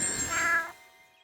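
A cartoon cat gives a single clear meow, rising and then falling, close and alone, with a faint ringing tail afterward.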